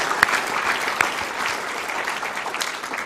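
Audience applause at the 2023 Queensland Australian of the Year Awards ceremony: a dense, steady wash of clapping from a large crowd, with a few sharper claps standing out near the start.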